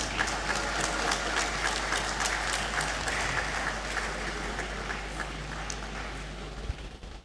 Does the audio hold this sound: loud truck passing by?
no